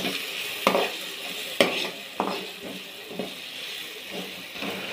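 Turmeric and ginger frying in a pan, with a steady sizzle broken by sharp scrapes and clinks of a spoon stirring against the metal every second or so, close and clear.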